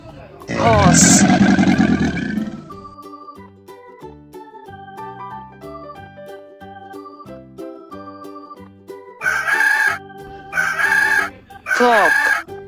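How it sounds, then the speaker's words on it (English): A rooster crows loudly and alone, then a few more crows and clucks come in short bursts near the end, with soft background music in between. "cock"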